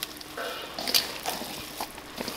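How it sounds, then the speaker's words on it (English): A kibbeh meat mixture being kneaded by hand, producing soft wet squelches and slaps at close range with no talking. "we're actually going to knead the mixture"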